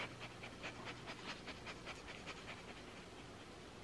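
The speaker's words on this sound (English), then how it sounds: "My dog's right here and he's sniffing this." A dog pants quickly and steadily close by, a rapid run of short breathy puffs with light sniffing, quiet and alone over a faint indoor hum.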